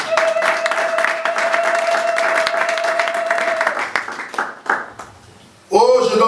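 A church congregation applauds to acclaim Jesus with sustained, dense clapping for several seconds. A tone holds under it before the clapping thins and fades, then a voice cuts in at the end.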